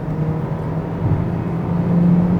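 A 2020 Hyundai Kona Hybrid's 1.6-liter engine drones and revs up under full throttle, its low hum rising steadily in pitch and loudness.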